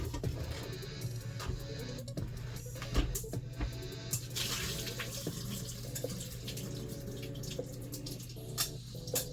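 Hot water from cooked instant broad noodles pours through a drainer into a sink, a continuous close splashing rush with a few drips and clatters, heard on its own without talk.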